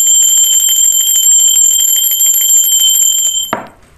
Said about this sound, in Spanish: y limpiar las energías con la campana